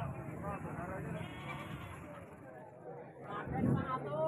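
Goats bleat among the crowd at a busy livestock market in Tuban, with a louder cry near the end over steady chatter and background commotion.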